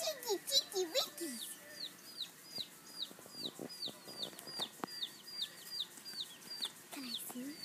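Baby chicks cheep in a quick, repeated series of short high peeps, fairly close and soft, while a voice and other voices talk over them in places.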